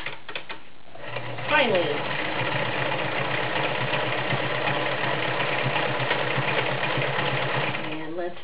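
A 1941 Kenmore convertible sewing machine stitches a multi-point zigzag, running in a continuous rapid whir and clatter after a brief start, with someone speaking over the opening moments.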